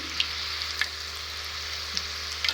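Green chillies fry in hot oil for onion bhaji, a quiet, even sizzle with a few sharp little pops scattered throughout, no voices.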